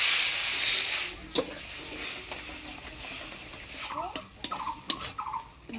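Turmeric, salt and spices frying in a pan with a splash of water for ghugni, a soft hiss with scattered clinks and scraping stirs, close and fairly quiet, no talk.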